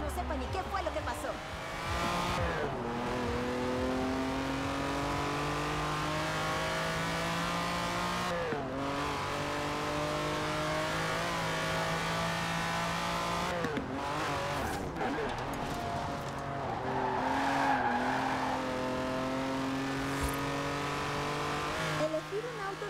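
A Lamborghini Countach races in Forza Horizon 4, its engine revving and climbing through gear changes with repeated rises and drops in pitch, a few brief tire squeals, and a steady loud roar throughout.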